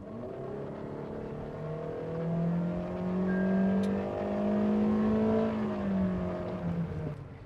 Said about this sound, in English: I'll let you hear the CVT transmission, so we'll switch to the GoPro audio out here.